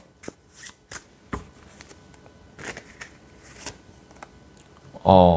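Soul message oracle cards are shuffled by hand in a series of sharp, close riffling bursts and soft flicks, ending in a louder final shuffle.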